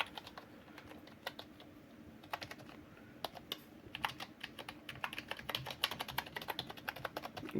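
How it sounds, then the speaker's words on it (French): Someone types on a Skylion H300 membrane keyboard: soft, uneven key taps that start sparse and grow quicker and denser, close and fairly quiet with no talk. "Bon, je tape un peu à l'arrache"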